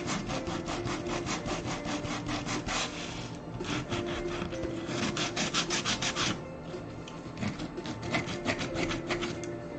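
Power tool grinding a craft sculpture of a mythical mountain, a steady loud rasping buzz with rapid pulsing strokes that eases briefly in the middle and then resumes, heard alone without talk.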